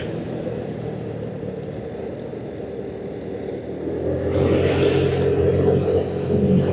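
A motorcycle strains up a steep, winding forest climb in Sulawesi on a Jakarta-to-Manado tour, its engine a steady rumble that swells louder and harsher partway through as the throttle opens.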